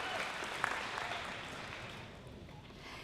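Audience clapping at a 2022 college commencement ceremony, a scattered, moderate patter of many hands heard from a distance in a large hall that thins toward the end.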